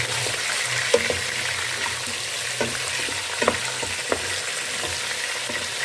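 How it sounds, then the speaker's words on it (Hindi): Chicken sizzles and fries in a pot for haleem, a steady hiss with occasional sharper pops and scraping stirs throughout, close and fairly loud, with no talking. "अब हम चिकन को फ्राई कर लेंगे।"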